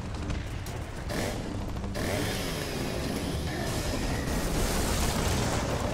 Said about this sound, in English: At least I get to use my chainsaw.